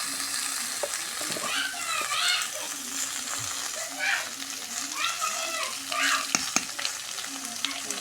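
Pumpkin pieces fry with onion and green chilli in a pan, giving a continuous close sizzle punctuated by repeated spatula stirs and scrapes, with a few sharp utensil knocks.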